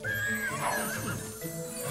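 A unicorn neighs in The Sims 3 Pets, a clear whinny with a rising and falling tone over steady game background music, heard close and fairly loud.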